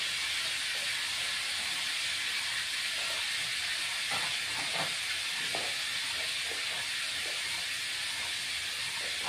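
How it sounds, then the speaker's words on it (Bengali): Jackfruit with turmeric fries in a pan for a vegetarian jackfruit and chana dal dish, a continuous even hiss with a few faint knocks partway through. "হলুদ দিয়ে ভেজে নিই।"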